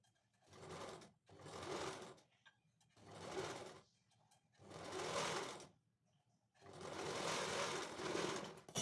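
Domestic sewing machine stitching a full-sleeve princess-cut blouse: five loud, close bursts of rapid mechanical running, each a second or two long, separated by brief pauses.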